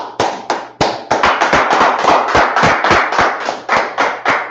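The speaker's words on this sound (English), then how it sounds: "Son of Christ, clap it up." Loud, sharp hand claps in a steady rhythmic beat, several people clapping together up close at a Sabbath church service, continuing for several seconds.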